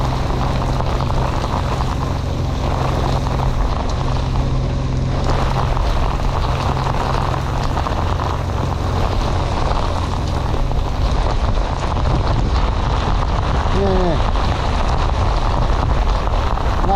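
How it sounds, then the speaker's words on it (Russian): A heavy downpour with wind lashes a small boat on a forest river, a loud, steady roar of rain and gusts buffeting the microphone throughout, with no speech. "Ливень с ветром идет."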